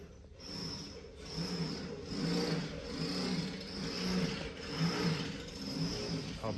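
Case 445 skid steer engine running in a workshop, a steady mid-pitched diesel drone with a slow rhythmic swell and fade, plus a faint high whine over it.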